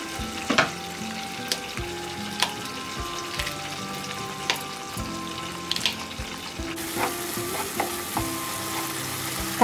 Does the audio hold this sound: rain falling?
no